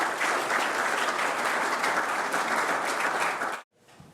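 A large audience at an electric vehicle expo breaks into loud, sustained applause that holds steady for several seconds, then cuts off abruptly, leaving only faint room noise.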